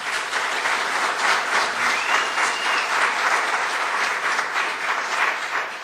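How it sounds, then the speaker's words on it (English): Steady, dense applause from an audience at a village plan commission meeting, a continuous wash of clapping that holds at an even level throughout without speech over it. "they applaud this thing"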